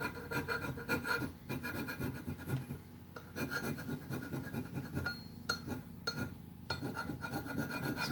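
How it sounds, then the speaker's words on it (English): A hand scraper dragged repeatedly across a surface, giving a continuous rasping, rubbing scrape close up with brief pauses between strokes and no talking. "I'll scrape in the other direction."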